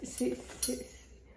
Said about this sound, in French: Regardez les couverts triés.